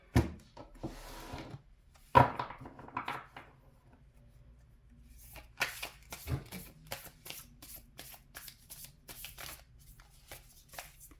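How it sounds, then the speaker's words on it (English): Tarot cards shuffled by hand in a series of quick riffling and tapping bursts, close and fairly quiet, with short pauses between runs and no talking. "Florence, a shuffle queen, strikes again."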